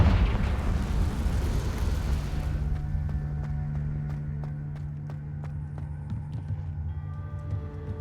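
A Confringo blasting curse goes off in Hogwarts Legacy as a loud, dense burst of fire and rumble that fills the first few seconds, then fades into a low tonal hum with scattered small clicks.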